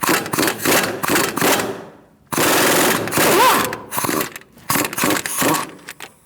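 Impact wrench loosening strut bolts on the front suspension of a 2008–2014 Mercedes-Benz C300 during a wheel-bearing job, loud rapid hammering bursts in short and longer runs separated by brief pauses, close up and without talk.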